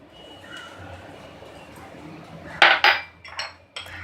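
Garlic is stirred into butter in a bowl. Soft scraping gives way to a few sharp, close clinks of a utensil against the bowl, with no voices.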